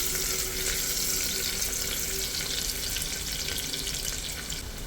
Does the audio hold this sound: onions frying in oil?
yes